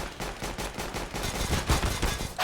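Rapid bursts of automatic gunfire from a Counter-Strike match, with dense, overlapping shots crackling in quick succession, loud and close throughout with no talking.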